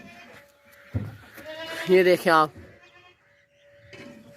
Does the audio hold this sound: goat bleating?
yes